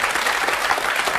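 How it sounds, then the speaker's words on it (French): A TV studio audience applauds steadily, a dense, even wash of many hands clapping at moderate level for a brief moment. "je crois qu'on peut applaudir très fort Dominique."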